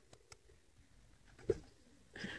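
Pigeons kept in a loft coo softly and intermittently, with a few faint, low calls and small rustles spread across a quiet, distant-sounding background.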